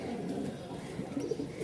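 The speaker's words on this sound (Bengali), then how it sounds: "এই কবুতরগুলো দেখতে একটু ছোট সাইজ, কিন্তু মাশাল্লাহ বাজিমাত করা একদম কবুতর।" Small flying pigeons of the Giribaz breed coo softly and continuously, close and low, with faint background noise and no clear talk.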